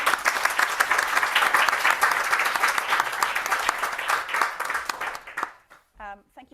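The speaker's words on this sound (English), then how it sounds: "join me to round of applause to our fantastic panelists." Conference audience applauding panelists, with loud, dense clapping that fades out near the end before a speaker begins talking.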